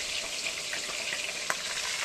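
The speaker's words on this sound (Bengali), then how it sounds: "ভেজে নিই" Food frying in hot oil in a pan, likely fish roe fritters in a home kitchen, giving a steady, close sizzle with soft crackles and one sharper pop near the end, no voices.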